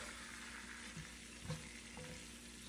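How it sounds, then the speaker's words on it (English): Chicken stew for a Spanish-style recipe sizzles steadily in a pan while a spatula stirs it, with a few soft scraping knocks at intervals; quiet and close, no talking. "I'm gonna use a spatula, something over here, just to mix this a little bit"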